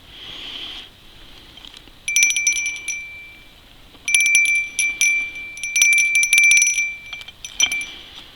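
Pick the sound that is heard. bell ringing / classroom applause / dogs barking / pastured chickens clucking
bell ringing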